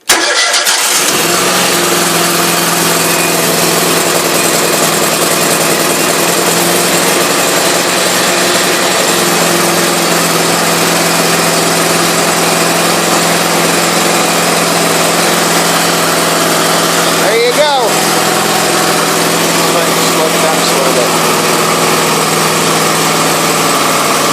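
An Exmark Pioneer lawn mower engine, cold and choked, is bump-started and then settles into a steady, loud running drone that holds for the rest of the stretch, with a brief clunk partway through.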